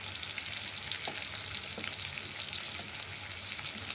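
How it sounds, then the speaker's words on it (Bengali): Salted spices frying in a pan with amaranth greens make a faint, continuous hiss, broken by a few soft scrapes and taps from stirring. "নুন দিয়ে ভালো করে নাড়বো এটাকে"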